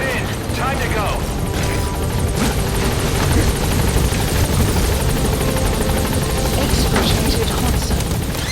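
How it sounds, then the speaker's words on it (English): A support helicopter in the video game Metal Gear Solid V: The Phantom Pain drones loudly and steadily with a rotor buzz throughout, and voices speak over it. "Support helicopter has arrived."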